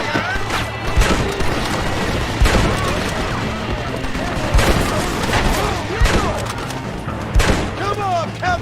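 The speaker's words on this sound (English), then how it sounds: "Go for the machine gun, John!" Rapid machine gun bursts and scattered gunshots in a Red Dead Redemption gunfight, dense and loud throughout with repeated sharp cracks and booms, shouted voices mixed into the battle.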